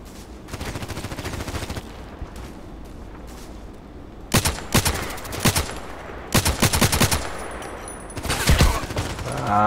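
KelTec RFB rifle fire in the Contract Wars shooter game, repeated rapid bursts of loud close shots, a sustained volley early on, then several distinct clustered bursts with brief gaps between them.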